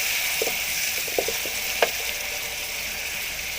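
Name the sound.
chopped onion frying in hot oil in a kadai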